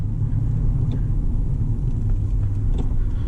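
A 2005 Acura NSX engine idles after warming up, a steady low rumble with a faint mechanical hum, close and continuous without revving.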